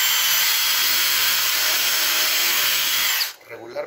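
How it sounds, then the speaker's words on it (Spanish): A power drill fitted with a countersink bit bores into melamine board, giving a loud, steady, high whine for a little over three seconds before it cuts off abruptly. "lo que voy a proceder es a empezar a meter mi taladro con la punta de avellanadora"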